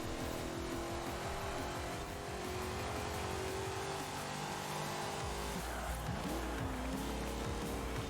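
In Forza Horizon 4, a car runs at full throttle in a game race, its engine revving hard and rising through the gears with a brief tire squeal, the continuous racing roar dense and unbroken.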